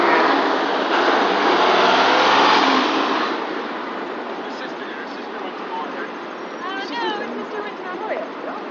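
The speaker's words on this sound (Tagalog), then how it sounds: "Traffic in New York." Busy New York City street traffic, with car engines and broadband road rumble that swell loudly for the first few seconds and then ease into a steady background hum, with faint chirping sounds and people talking nearby.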